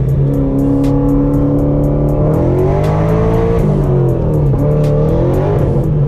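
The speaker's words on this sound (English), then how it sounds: "you can tell that clutch is slipping" Loud, close engine of a supercharged E85 Camaro heard from inside during hard acceleration with a slipping clutch, revs rising and dipping repeatedly in a continuous roar.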